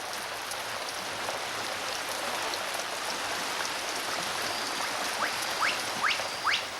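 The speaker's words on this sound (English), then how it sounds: "The downpours of rain are absorbed by the vegetation and soil like a giant sponge" Steady rain falling in a rainforest, a dense continuous hiss of drops on vegetation with a few brief chirping calls rising near the end; no talk.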